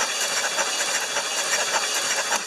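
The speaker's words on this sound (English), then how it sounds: "Oh, it's cranking over good now." A 1975 Lincoln Continental with a 460 engine cranking over steadily on a hot-wired solenoid, a continuous dense whirring churn with a faint rhythmic pulse, loud and close with no talk.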